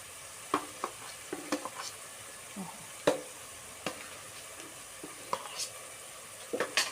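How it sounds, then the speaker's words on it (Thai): Minced pork fries with curry paste in a pan, a soft steady sizzle broken by repeated clicks and scrapes of a spatula as it is stirred, close and fairly quiet, with no talk. "ก็จะค่อยๆผัดไปก่อนนะพี่น้องเนาะให้เป็นเขาเครื่องพริกแกงนะคะ"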